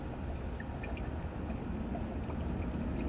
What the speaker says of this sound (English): and just pour the product in the gas tank.